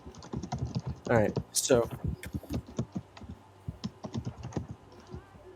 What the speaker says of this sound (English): I can't hear anything over mic typing.